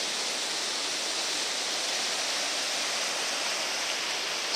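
A river rushes steadily beside a rustic hiking trail near Siffleur Falls, a dense, even roar of flowing water heard close and unbroken, with no voices.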